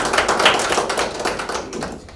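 An audience at a training program presentation claps for the judges, a brisk, fairly loud patter of many hands that fades slightly toward the end, with no talking.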